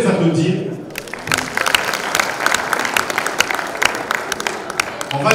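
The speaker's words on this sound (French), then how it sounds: "vous pouvez les applaudir" Students at a school ceremony applaud together in a dense, lively burst of clapping that starts after a brief voice and keeps up steadily, close and loud, with scattered sharper claps standing out.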